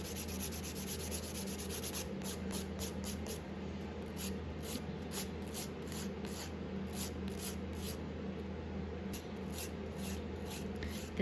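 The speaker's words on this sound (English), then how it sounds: "This is quite fiddly filing because I'm doing it on my own nail" Nail file working gel colour off a fingernail, a quiet rapid rasping scratch repeated in short strokes over a low steady background hum.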